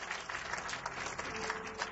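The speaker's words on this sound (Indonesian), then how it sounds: "Tepuk tangan bagi Allah kita." Church congregation applauding during a sermon, a steady wash of many hands clapping at moderate distance, continuous and fairly even throughout.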